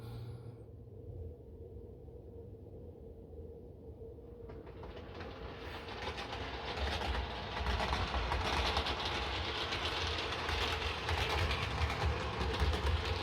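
Heljan Class 57 model locomotive running on a layout, a steady mechanical rail rumble with faint rhythmic clickety-clack that swells and grows a little louder and closer partway through.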